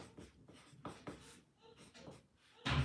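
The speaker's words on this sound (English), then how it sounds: "I'm going to write that down" Pen scratching on paper as something is written down by hand, close and quiet with irregular short strokes, followed by a louder rustle at the end.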